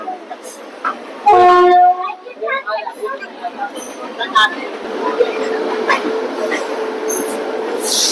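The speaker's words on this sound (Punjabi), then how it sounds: "ਉਹ ਆਪਣੀ ਟ੍ਰੇਨ ਜਿਹੜੀ ਹੈ ਪੈਸੇਂਜਰ ਤੇਜ਼ ਹੋ ਗਈ ਹੈ" A DEMU passenger train runs between Ambala Cantt and Dolatpur Chowk, with a steady rumble on the rails, a loud horn blast early on and a person talking over the running noise.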